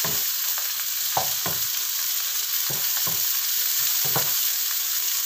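Red bell pepper sambal stir-fries in a hot pan, giving a steady close sizzle and crackle broken by several soft scrapes of stirring.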